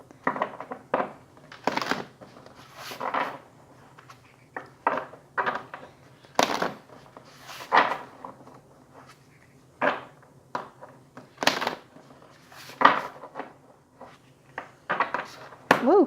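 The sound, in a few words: shuffling a deck of cards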